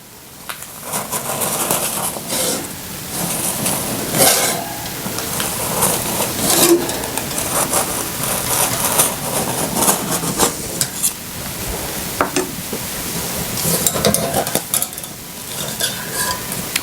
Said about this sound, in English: I'm going to run a spatula around the edge of this just to release it from the sides